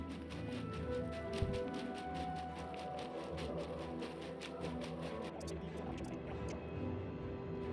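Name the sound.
character wading through water in the video game Oblivion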